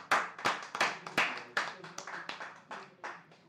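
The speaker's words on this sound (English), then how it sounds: "Give a big round of applause, please" A small live audience at a music feature night claps in a series of sharp, uneven bursts, loud at first and gradually tapering off, with faint murmuring underneath.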